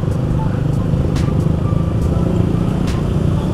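A slow traffic jam of cars and motorcycles on a town street in Genteng, Banyuwangi, with a dense, continuous engine drone and occasional sharper motorbike revs close by.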